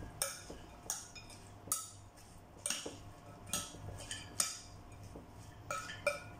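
Spoons clink against a bowl while a carrot appetizer is mixed with olive oil and other ingredients, about ten sharp, evenly spaced metallic taps, close and quiet, with no talking.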